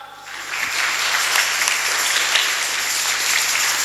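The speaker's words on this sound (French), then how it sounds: "On acclame." An audience bursts into applause, with steady, dense clapping that starts a moment in and holds loud and even to the end, with no talking over it.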